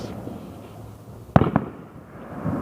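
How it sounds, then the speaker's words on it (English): Fourth of July fireworks burst outdoors with two sharp, close-spaced pops in quick succession, standing out briefly against a low background rumble. "they're launching fireworks over there"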